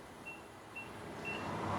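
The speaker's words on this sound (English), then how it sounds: "The car beeps at me because I have the key in my pocket and I got out of it" Three short, thin electronic beeps spaced evenly apart, fairly faint, from a 2011 Infiniti EX35 warning that the key is still in range after the driver has stepped out, over a low background rumble that grows slightly louder toward the end.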